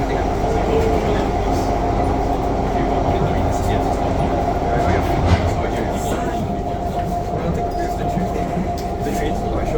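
An SMRT Kawasaki-Sifang C151B metro train running on the North-South line from Ang Mo Kio toward Jurong East gives a loud, steady interior rumble with a sustained motor whine, continuous throughout, while voices murmur faintly in the background.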